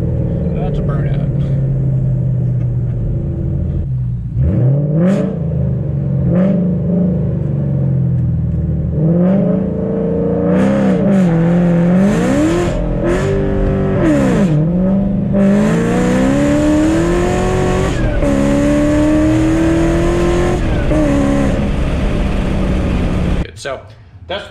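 A car doing a burnout on asphalt during torque limiter testing, engine revving loud and close with rising, wavering pitch over about twenty seconds, tire roar underneath, then cutting off abruptly near the end.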